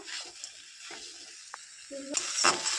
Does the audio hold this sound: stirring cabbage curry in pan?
yes